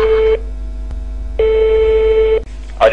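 A telephone line tone during a call to a water delivery order line in Nusaybin, Mardin: two long, loud, steady electronic tone bursts separated by a pause, with no talking over them.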